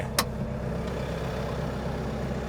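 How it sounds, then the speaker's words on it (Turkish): A 25-horsepower LS mini tractor engine runs steadily in a field with a continuous low rumble and chug, one faint click near the start, no voices. "Tarla içerisinde bir ufak traktör görüyorum. 25 beygirlik mini LS."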